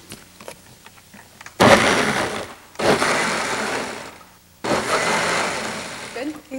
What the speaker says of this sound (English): let's add the onion. We like just to add the onion and then just whiz it a little bit until it's minced.